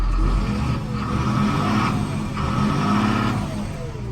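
A John Deere 6630 tractor engine idles loudly and steadily close by, with a low rumbling drone that rises slightly in pitch now and then.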